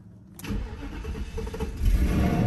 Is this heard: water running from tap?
no